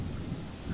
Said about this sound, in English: Already I can hear the creak and groans of this old place as rain beats against the windows